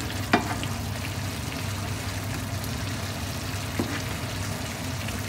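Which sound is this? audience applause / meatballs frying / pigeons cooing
meatballs frying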